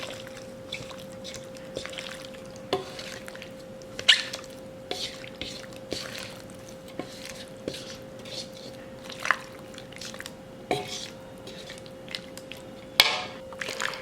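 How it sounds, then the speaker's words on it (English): Seasoned chicken pieces with pepper are mixed in a bowl to coat evenly, giving soft wet squelching with scattered light clicks and taps, close and fairly quiet over a steady low hum. "Now I'll mix this until it's coated evenly."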